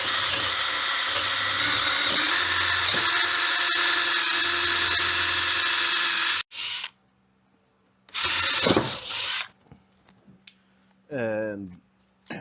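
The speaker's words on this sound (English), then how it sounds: "I'm going to drill this hole out for the hose. It's soft wood" Power drill boring a hole through soft wood for a hose, a loud continuous whirring grind for several seconds, then short bursts of drilling with pauses and a person speaking briefly near the end.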